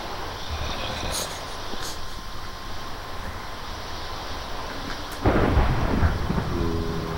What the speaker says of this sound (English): How is there lightning in a tundra biome?